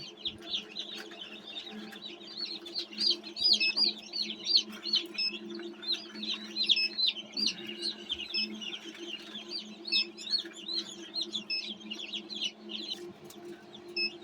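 Newly hatched chicks in an incubator keep up a rapid stream of high, bright peeps, many overlapping, over a steady low mechanical hum.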